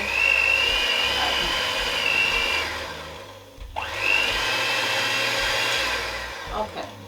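An electric hand mixer set to speed 4 whirs steadily through Cadbury cookie mix, a high motor whine that dips and cuts out around the midpoint before starting up again, with the tone wavering as the beaters work the dough.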